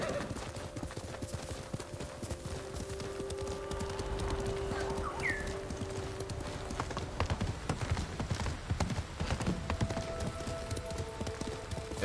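Galloping horse hooves from the video game Ghost of Tsushima beat in a fast, even rhythm across the whole stretch, with faint tonal game ambience and a short bird-like chirp mid-way.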